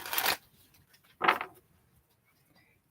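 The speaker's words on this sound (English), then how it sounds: "Last shuffle." Tarot cards are shuffled in two quick riffling bursts separated by a short pause, close and crisp in a quiet room.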